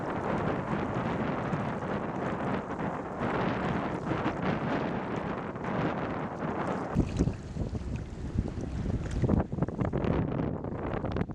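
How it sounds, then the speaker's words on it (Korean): Strong wind blowing at the sea, roaring in loud gusts across the microphone with a low rushing rumble, shifting to a lighter, brighter blow partway through, with no voices. "한참을 바다 속으로 걸어가는데 바람이 점점 거세집니다."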